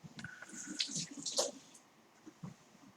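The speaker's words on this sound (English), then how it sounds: "I'm going to rinse my hands real quick." Tap water runs briefly while hands are rinsed at a kitchen sink during cake baking, a soft close splash with scattered drips and clatter, then fading to quiet.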